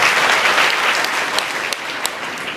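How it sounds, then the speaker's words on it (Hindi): An audience of a women's college session claps together, a dense burst of applause that starts strong and slowly thins out, close and loud. "ताली बजाओ अपने लिए।"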